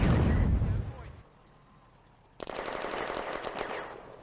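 Soviet mortar fire in the video game Firefight: a heavy rumbling blast fades into quiet, then a sudden burst of rapid, crackling gunfire sets in and continues loudly.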